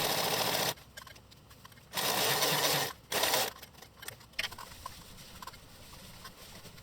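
A sewing machine stitches the side seam of boxer shorts in short bursts, running for under a second, stopping, then running again for about a second and then a half-second, with quiet handling patter between runs.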